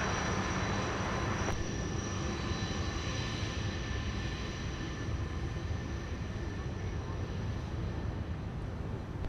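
An airliner lands on runway 30 left at Minneapolis–Saint Paul airport, heard as a continuous broad engine roar that stays loud and steady throughout.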